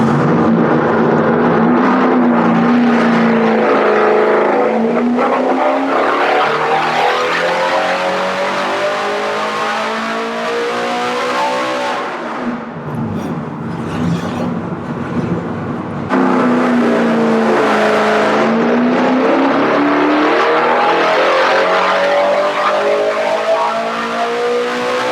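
An engine roars at full load on a dyno, its pitch rising and falling through long sustained pulls, loud and close, with a brief quieter dip midway.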